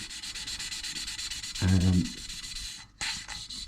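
Engine valves are lapped into a rally car cylinder head with coarse then fine grinding compound, a close, continuous gritty rubbing with rhythmic back-and-forth strokes and a brief heavier scrape partway through.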